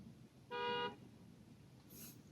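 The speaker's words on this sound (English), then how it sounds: "He's honking at all these birds" A single short car horn honk sounds in a parking lot, aimed at birds, with faint background ambience and a brief higher chirp afterward.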